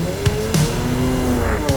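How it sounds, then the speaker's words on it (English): Drag race car doing a burnout at a drag strip, a loud sustained engine roar with tire squeal layered over it and a few sharp bursts, heard close and continuous for under two seconds. "He's doing a big burnout."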